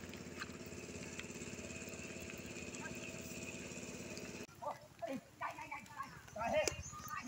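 A tractor engine runs steadily and loud during a rainy village walk, a droning mechanical rumble for the first half before cutting off, after which people talk amid outdoor noise.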